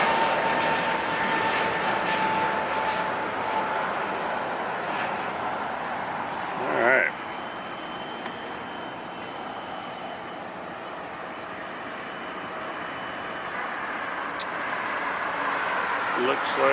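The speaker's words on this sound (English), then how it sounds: "A321-200 Neo going to JFK, New York. Let's get that landing gear going up there." An Airbus A321neo jet takes off at LAX, its engines a broad, steady roar heard from a distance, with a brief louder swell partway through.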